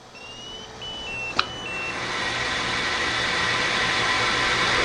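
A 2300-S SRD machine gives a short series of thin electronic beeps as it steps through its recipes, then a rising mechanical whir builds steadily beneath.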